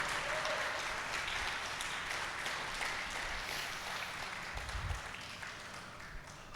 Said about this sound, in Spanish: Dale un buen aplauso al rey.